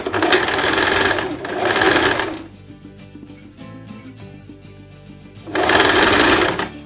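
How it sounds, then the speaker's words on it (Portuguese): A sewing machine stitches the facing of a dress, running in two long bursts with a short pause between, stops for a few seconds, then starts up again, loud and close. "E vou costurar agora essa parte do revel."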